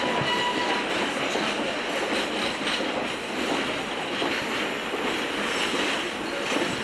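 Adirondack Scenic Railroad locomotives and train cars roll past near Thendara and Old Forge, a steady broadband rumble with faint wheel clatter holding at an even loudness throughout, with no voices.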